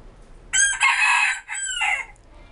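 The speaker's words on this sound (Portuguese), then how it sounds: "2 horas da tarde, o galo cantando aí." A Japanese Silkie five-toed rooster crows once at two in the afternoon, a loud, close, drawn-out call in several strained segments lasting about a second and a half, alone against a quiet background.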